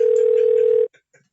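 A telephone rings out on a call to a radio show guest: one long, loud, steady electronic ring tone that cuts off abruptly, followed by a few faint, brief sounds in near silence.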